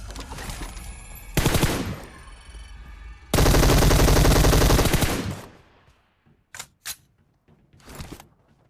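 Gunfire in PUBG Mobile version 1.3: a short loud burst, then a longer sustained spray of automatic fire, followed by a few sparse quieter shots and bursts with near-silence between.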